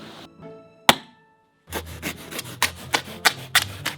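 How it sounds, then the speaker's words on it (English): A knife slicing through the cardboard of an IKEA box, heard as a run of close, scratchy rips and scrapes in irregular strokes after a sharp knock and a brief pause. "Thanks, Rope, for the trusty knife. I really hate opening cardboard boxes"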